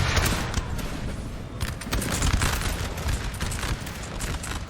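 Massed musket volleys crackle across a Napoleonic battlefield in a 4v4 Napoleon: Total War match, forming a dense, continuous, loud rattle of overlapping shots that sounds close and never pauses.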